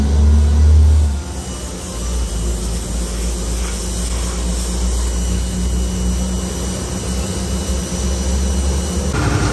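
A Crown Vic engine runs steadily while burning off excess oil, giving a loud, continuous roar with a heavy low rumble that stays level throughout, with no talk over it.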